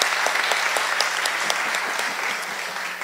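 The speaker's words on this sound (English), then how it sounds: "I'm going to say let's get a clap." Audience members applaud at a board of education meeting, a steady burst of many hands clapping close by that holds for about three seconds and fades slightly at the end.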